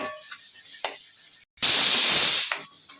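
Onion and capsicum for Kolhapuri pav bhaji sizzling in a pan as they are stirred, quiet scraping at first, then a loud burst of sizzling for about a second before settling back.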